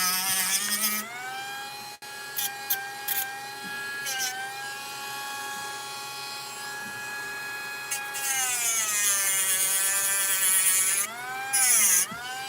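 A Bauer rotary tool runs continuously with a high harmonic whine that shifts pitch as the speed changes and the bit loads up, a few brief dips along the way, louder and harsher near the end.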